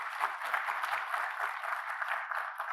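Steady applause from a university inauguration ceremony audience, a dense patter of many hands clapping at moderate distance, fairly soft and continuous for its short length with no voices over it.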